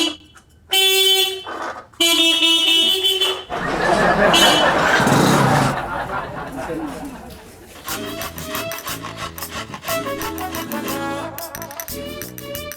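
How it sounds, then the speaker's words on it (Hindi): Loud car horns honk repeatedly in several blasts of different pitch, with busy traffic noise and a burst of street commotion in between. "हॉर्न बजाएगा।"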